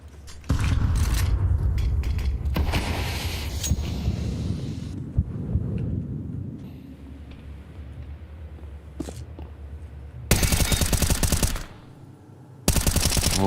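Rapid bursts of automatic gunfire in a Counter-Strike esports match, loud and dense, followed by quieter game ambience and then two more sharp bursts of spraying fire near the end.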